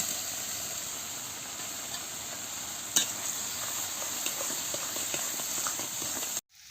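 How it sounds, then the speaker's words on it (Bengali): Potatoes are sautéed with spices in a pan, giving a steady sizzle with a scraping stir and one sharp knock partway through, close up and without speech, before cutting off abruptly near the end. "আমি আলুটা দিয়ে ভালো করে মশলার সঙ্গে কষিয়ে নিচ্ছি"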